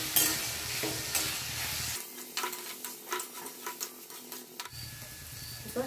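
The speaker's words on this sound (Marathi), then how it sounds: "हे आपले टोमॅटो चांगलं मिक्स करून घ्यायचं" A spoon stirs tomatoes into dal and onion in a pan on the stove, giving close scraping and clattering strokes over a steady sizzle that drops away briefly mid-stir before returning.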